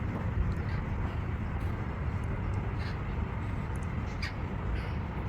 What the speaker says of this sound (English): These are the wild parrots of Long Beach.